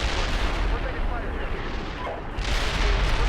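Artillery fire rumbles through an Arma military operation, a dense, continuous low roar of distant blasts and booming that swells again near the end, with no talk over it.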